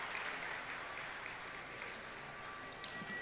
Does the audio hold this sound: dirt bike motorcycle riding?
no